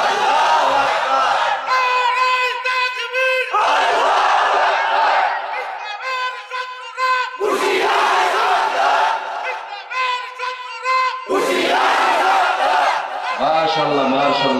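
A large crowd at a Bangla Islamic sermon gathering roars the takbir in response to a preacher, with loud, sustained collective shouts repeating in four waves, the massed voices near and dominant.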